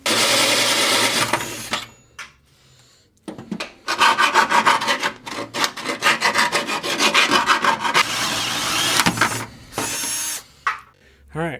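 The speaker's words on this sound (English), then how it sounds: "I'm basically going to drill out now with this hole saw here." Loud, grinding rasp of a hole saw cutting through a Porsche's metal body for a radiator mount, in long bursts separated by short pauses.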